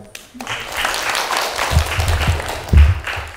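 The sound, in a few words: audience applause after a lecture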